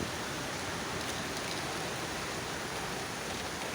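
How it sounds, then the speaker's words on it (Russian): Heavy rain pouring steadily on an autumn day with leaves falling, a dense, even hiss with no break, fairly close, without any voices. "Дождичек сильный."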